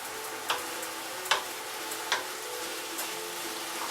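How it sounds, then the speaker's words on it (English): Meat sizzles steadily under the lid of a covered pot, a constant bright frying hiss with a few soft clicks and taps. "Still waiting on this meat to brown up."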